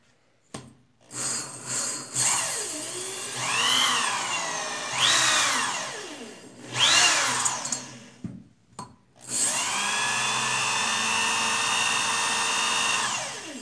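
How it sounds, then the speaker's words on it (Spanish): A drill lapping the valves of an AKT125 motorcycle engine with coarse grinding compound: a whirring, grinding motor sound that rises and falls in pitch through several short runs, ending with one long steady spin. "El mismo proceso que lo estamos haciendo con la mano, lo va a hacer el taladro, pero más rápido"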